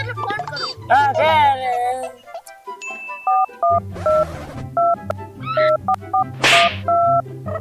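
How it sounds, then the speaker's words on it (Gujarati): Phone keypad tones beep in a quick irregular series as a number is dialed, clear and close, with someone talking at the start and a few rustling bursts between the beeps. "હું આપણા દોસ્તને ફોન કરું."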